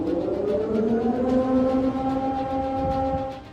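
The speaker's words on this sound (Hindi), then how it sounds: "जापान के इंडस्ट्रियल शहर योकोहामा में सुनामी का सायरन सुनाई दे रहा है" A tsunami warning siren wails across the industrial city of Yokohama, Japan, a sustained, slowly sliding layered tone that holds steady and fades slightly at the end.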